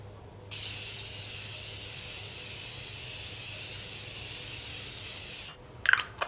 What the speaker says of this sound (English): air-powered sprayer delivers even and controlled application